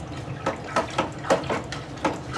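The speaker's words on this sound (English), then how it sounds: "I'm going to pour this in my wine, and then I'm going to give it another stir" Liquid carrying oak chips is poured into homemade red wine, a close run of splashy glugs arriving in quick irregular pulses, fairly loud and with no voices.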